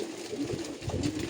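Pigeons cooing close by, soft throaty repeated coos overlapping in a short burst with faint background noise.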